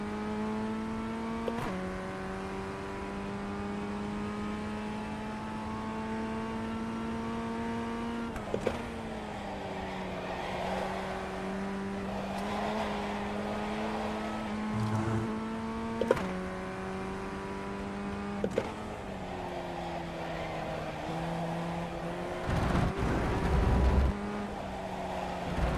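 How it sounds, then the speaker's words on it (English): An open-wheel racing car engine in a video game drones steadily and holds its pitch, with several abrupt downshift changes and revs over nearly half a minute, played fairly quietly and without talk. "I love the Honda sounding engine in Formula 1"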